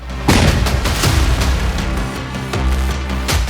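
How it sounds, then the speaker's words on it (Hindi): A house explodes at night in a fireball: a loud, rumbling blast with heavy low-end booms and crackling bursts rolling on for several seconds, close and overwhelming. "रात 12:30 बजे का वक्त था जब इस घर में धमाका हुआ।"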